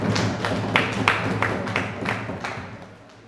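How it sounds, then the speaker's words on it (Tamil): Rhythmic clapping, about eight to ten evenly spaced claps that slowly fade during a Hebrew lesson class session, with a low hum underneath and no talk. "உங்களுக்கு ஒரு கைத்தட்டு தட்டி."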